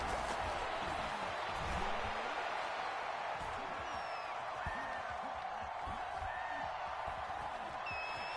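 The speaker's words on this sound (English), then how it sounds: "The crowd getting into it as we come up on a big 3rd down." A stadium crowd in a PS4 football video game cheers and roars steadily at a big third down, with whistles and whoops rising over a loud, continuous wash of noise and no speech.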